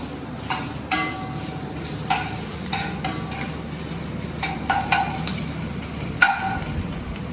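Chopped chillies sizzle steadily in a hot pan while a spoon stirs, scraping and clinking against the metal in a dozen irregular sharp knocks over the constant frying hiss.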